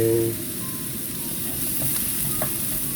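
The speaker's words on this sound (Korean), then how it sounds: "양파를 살짝 볶아주고 잘 볶아주고 있어요" Onions stir-frying in a pan inside a camper van, giving a steady loud sizzle with faint scraping under it that continues without pause.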